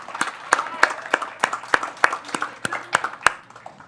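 Sparse applause from a small audience at a real-estate investment presentation, a dozen or so distinct sharp claps scattered irregularly, fairly near and moderately quiet, with faint murmuring beneath.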